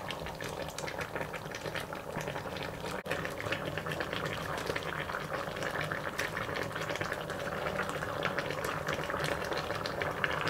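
Pork chop bones simmer with vegetables and black beans in a pot, giving a steady bubbling and hissing boil that runs unbroken and fairly quiet throughout.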